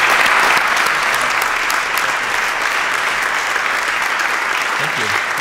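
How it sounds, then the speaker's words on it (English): A church congregation applauds a guest preacher at a Sunday service, a steady, dense round of clapping that fills the room and holds loud throughout without a break. "let's give Dr. McConnell a good round of applause and thanks"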